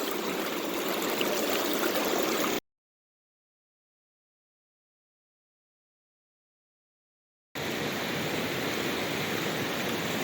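Water rushing steadily through a gold-prospecting sluice as a bucket of gravel is run, a continuous broad hiss, close and fairly loud, cut off by a long silent gap before resuming.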